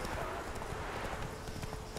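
A horse gallops in The Witcher 3: Wild Hunt, its hoofbeats drumming in a fast, continuous clip-clop over a dense wash of in-game ambience. It stays moderately close and steady throughout.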